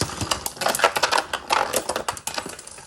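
Two Beyblade spinning tops, Lord Spriggan and Bushin Ashura, clashing inside a plastic stadium: rapid sharp clicking and rattling impacts in irregular bursts, close and loud, ending as one top bursts apart.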